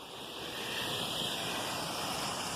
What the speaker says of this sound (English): impromptu little waterfalls, glacial waterfalls, because they come to life only when there is something